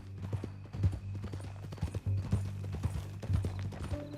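Horse hooves clip-clop in a steady walking rhythm, close and distinct, over a low hum in Red Dead Redemption 2, with no talk during the steps.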